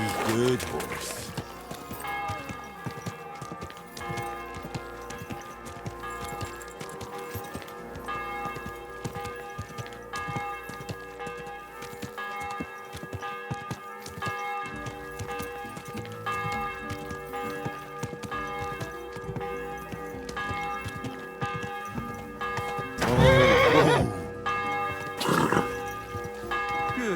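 Steady hoofbeats clop through a long stretch alongside a ringing bell-like tone, and a horse whinnies loudly near the end, from the video game Kingdom Come: Deliverance II.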